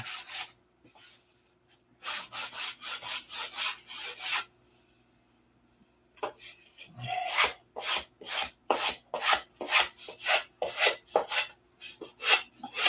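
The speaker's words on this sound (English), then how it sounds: "So now we sand in that direction, and come back and sand in the other direction at a 45, like the crosshatch on a cylinder." Wood being hand-sanded with sandpaper in alternating crosshatch directions at about 45 degrees, a series of close, rhythmic rasping strokes in two bursts with a brief pause between.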